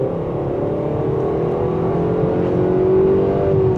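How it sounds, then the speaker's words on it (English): Engine of a 2026 Nissan Sentra SR in sport mode revving and pulling steadily, a loud continuous drone that climbs slowly in pitch, heard from inside the cabin with no talking. "now let's put it into sport mode, where the RPM will jump up"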